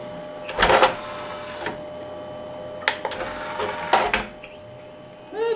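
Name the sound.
modded Xbox disc drive spindle spinning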